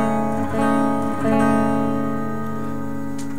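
Electric guitar sounds the intro chord shape of a song, a dense ringing chord with a couple of soft re-picks early on, sustaining steadily and close for a few seconds without any voice.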